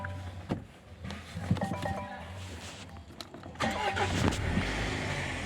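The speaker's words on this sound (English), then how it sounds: "So let me start the vehicle now." A 2018 Range Rover Velar engine starts, a brief crank followed by the engine catching and running, heard close with shifting mechanical noise and a louder surge near the end.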